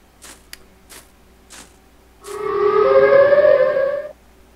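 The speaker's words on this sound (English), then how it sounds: "We stay away from sirens." A Siren Head horror game at a haunted campsite plays a few soft footstep-like thumps, then a loud, eerie siren wail with layered droning tones that swells and holds for about two seconds before cutting off.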